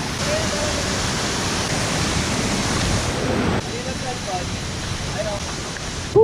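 A waterfall roars in a constant broadband rush, loud and close, filling the whole scene with steady white noise.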